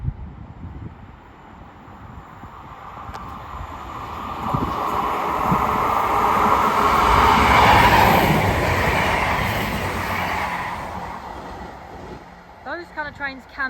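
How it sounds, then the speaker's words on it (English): Two Transport for Wales Class 158 diesel units, 158828 and 158821, pass through Stechford station. The roar swells steadily to a loud peak, then fades away, with brief squeals near the end. "we're going to see the return of 158, 828 and 821 from Transport for Wales, going from, think about it, Birmingham International to Holyhead"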